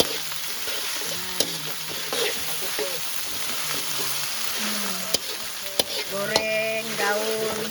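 Steady sizzling of leaves and turmeric frying in a pan outdoors on a farm, with occasional stirring clinks and scrapes, while a voice speaks intermittently in the background.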